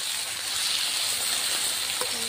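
Ginger, garlic, onion, green chili and tomato frying in oil for a fish curry, an even, close sizzling hiss that holds steady throughout, with a faint clink near the end and no speech.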